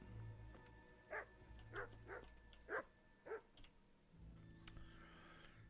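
A dog barks in the medieval video game Kingdom Come: Deliverance, giving five distinct barks at an even pace over a quiet ambient background.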